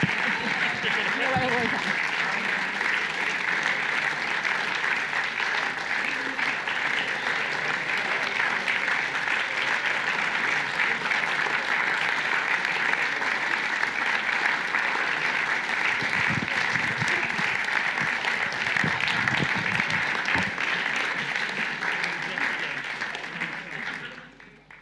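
An audience at a startup demo day applauds continuously in a dense, steady roar of clapping that lasts the whole stretch and tapers off at the end.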